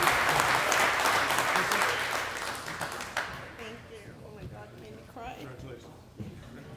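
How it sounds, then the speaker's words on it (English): Dense applause from a crowd fills the first few seconds, then thins into scattered claps with talking and a few voices underneath. "How about another round of applause for all those volunteers?"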